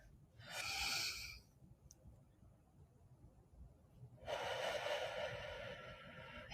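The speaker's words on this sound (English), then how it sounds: "deep breath in." A person takes a deep breath in during a guided relaxation, two breathy rushes of air, one short near the start and a longer one toward the end, close and quiet.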